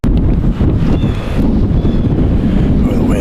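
Strong outdoor wind during a November morning archery hunt buffets the microphone, a loud, steady roar that persists without a break.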